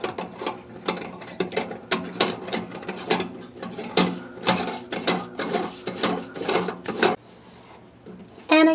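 A lock nut with gaskets is tightened onto a kitchen sink flange, producing a busy run of rapid ratcheting clicks and metallic clatter close by, pausing briefly near the end before resuming.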